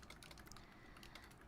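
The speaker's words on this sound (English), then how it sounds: "I'm typing real fast, so ignore if there's like typos and stuff" Rapid, dense keystrokes clatter on a computer keyboard as someone types fast, a faint, continuous patter of overlapping clicks with no voices.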